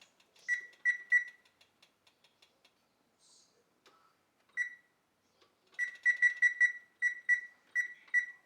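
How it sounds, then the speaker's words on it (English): A kitchen timer is wound with faint ratcheting clicks, then gives quiet, close beeps in short bursts and quick runs, clear in an otherwise silent kitchen. "I'm going to set my timer"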